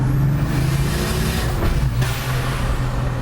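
A turbocharged car with a 200-plus horsepower engine swap and a loose intercooler pipe accelerates, giving a loud continuous engine roar with a hissing, whooshing edge throughout.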